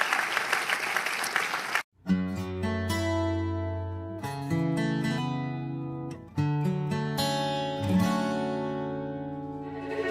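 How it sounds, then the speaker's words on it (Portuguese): A church congregation at a Baptist prayer meeting bursts into loud, close applause for a couple of seconds, then tonal instrumental music takes over and carries on alone. "Dê para Jesus uma forte salva de palmas"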